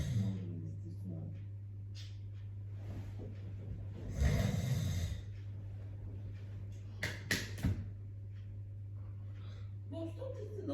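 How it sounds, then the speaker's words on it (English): A man snores loudly in a home bedroom, with a long rasping snore burst in the middle and a few sharper snorts after it, over a steady low hum and some quiet talk. "When did you start snoring like that?"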